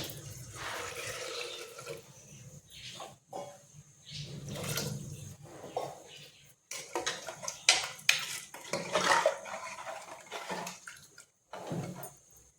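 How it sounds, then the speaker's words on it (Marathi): Water being poured into a solkadhi mixture in a home kitchen, with splashing and running water mixed with clinks of a vessel and utensils, irregular and fairly close. "एक अंदाजे पाणी घालणार आहोत"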